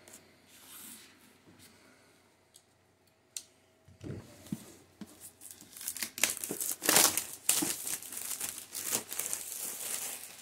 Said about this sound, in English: I'm going to pop the plastic on this.